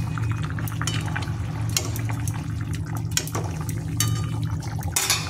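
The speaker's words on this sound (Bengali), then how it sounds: "ফুটে গেছে, এবার বড়াগুলো দিয়ে দেব।" Curry broth bubbling at a steady boil in a pot, ready for jackfruit-seed fritters to go in; a continuous close, moderately loud churning gurgle with small pops and splashes and no talking.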